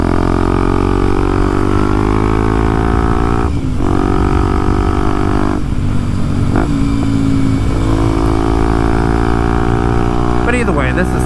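A Kawasaki KLX 230SM motorcycle with its O2 sensor deleted runs steadily at idle, a loud, close, droning engine note with a few brief dips and a short burst of higher revving near the end; a voice may speak over it.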